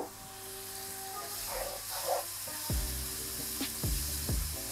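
A minced meat mixture seasoned with black pepper, salt and red pepper flakes, cooking for Ali Nazik kebab, sizzles in a pan as a continuous hiss broken by a few dull knocks and scrapes.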